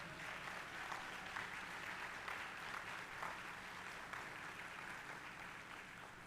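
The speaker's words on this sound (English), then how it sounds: "Let's give them a round of applause for being here." Audience at a luncheon honoring survivors and descendants during the Black Wall Street Legacy Festival applauds the descendants, a dense even patter of clapping that holds steady throughout, fairly faint and distant.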